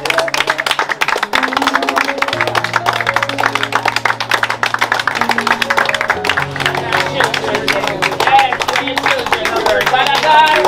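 People clap along at a house opening, with sharp, rapid claps over loud music and voices talking.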